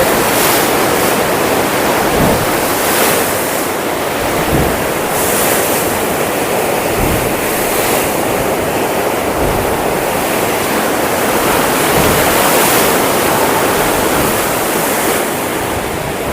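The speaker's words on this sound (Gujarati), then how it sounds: "આ પાણીના સાટા સીધા બહાર આવી રહ્યા છે" Narmada canal water gushes out from beneath the Sabarmati river in a loud, unbroken roar of churning, crashing water, heard close and alone.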